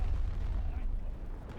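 An enemy tank blows up in the Battlefield 2042 video game, a deep muffled boom rolling into a low rumbling tail, moderately quiet and amid game noise.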